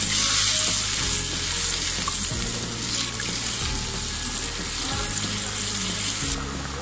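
Beef for haleem cooking in water in a pot on a stove, a loud bubbling, sizzling hiss with repeated low scraping stir strokes, steady throughout.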